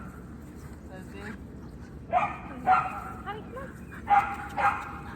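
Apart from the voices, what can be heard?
dogs barking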